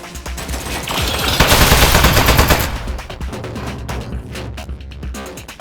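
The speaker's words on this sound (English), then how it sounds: "Oh, jeez, it's got a gun! It's an ambush! Man, he got that turret good, huh?" A turret firing its gun in the video game Aperture Desk Job, a loud close burst of rapid mechanical shots that swells, then trails into scattered clicks and softer impacts.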